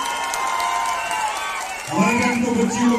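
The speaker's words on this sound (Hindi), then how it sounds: "एक बार माँ बाप के लिए भी जोरदार तालियां" Crowd at the Manali winter carnival breaks into loud applause and cheering for parents, swelling after a steady murmur of voices and continuing as a dense, close burst of clapping.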